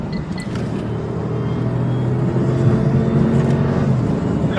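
A car engine drones and whirs steadily at speed, rising slightly in intensity, during a high-speed police chase with a deputy closing on the suspect's bumper; continuous road rumble with no voices.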